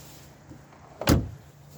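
A single quick clunk of a car door being worked, close by, in an otherwise quiet space.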